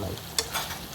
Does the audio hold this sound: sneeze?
no